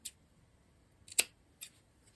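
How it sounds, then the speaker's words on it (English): Scissors snip off excess fabric from a sewn hem, giving three brief, crisp cuts spaced apart in a quiet room, the middle one loudest. "So I've cut that excess off."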